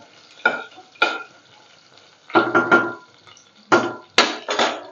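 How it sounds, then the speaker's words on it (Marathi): Garlic dropped into hot oil with tempered mustard seeds for rasam, bursts of sizzling and stirring against a pan that come in short clusters separated by quiet gaps. "मोहरी तडली आपण त्याच्यामध्ये घालूया लसूण"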